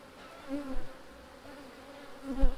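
Honey bees buzz during an inspection of a hive's third chamber, a soft close drone with a couple of brief louder passes as individual bees fly near.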